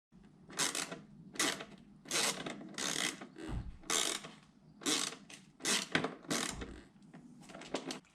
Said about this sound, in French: on va démonter ces petites vis là